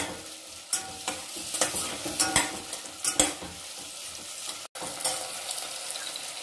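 Tomatoes with a pinch of salt fry over a low flame and are stirred with a spoon for soya pulao. Close, steady sizzling runs throughout, with repeated scraping stir strokes and no talking.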